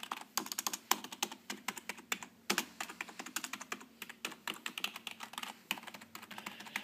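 Fast, steady typing on a Logitech K120 rubber dome keyboard, a close, continuous stream of soft muted key clacks with no talk.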